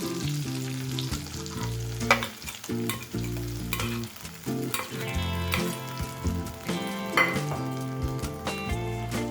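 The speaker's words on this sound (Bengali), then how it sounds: "এবার আমরা এর মধ্যে বেটে রাখা মশলাটা অ্যাড করে দেব" Ground masala paste frying with softened tomatoes in a pan for a Bengali bata fish curry, a steady loud sizzle broken by repeated scraping strokes of a spoon stirring, with no voices.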